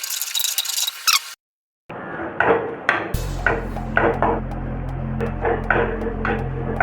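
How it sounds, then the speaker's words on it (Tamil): Egg fried rice stirred and mixed in a pan with a utensil, scraping and clinking in irregular strokes over a steady low hum from the stove, after a brief silent gap. "இப்போ நல்லா மிக்ஸ் பண்ணிக்கோங்க."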